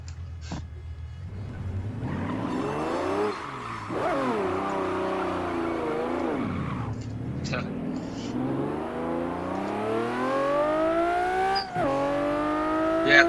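A sports car engine revs repeatedly in the racing game Assetto Corsa, manual gearbox, pitch climbing and dropping through several sweeps, loud and continuous, with a shift-like dip midway.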